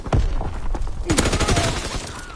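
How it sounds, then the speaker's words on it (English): Rapid gunfire rattles in a World War II shooter match, with a dense burst of close shots followed by a sharper crack and more firing. An explosion-like thump comes early on. "I'm being shot at already."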